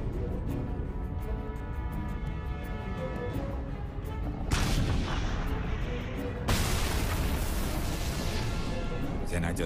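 A tank gun fires and the shell explodes during the Battle of Kursk on the northern front. Two loud, booming blasts land a couple of seconds apart over a constant battlefield rumble.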